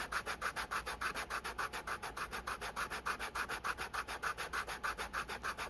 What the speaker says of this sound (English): we'll sand these off with this 120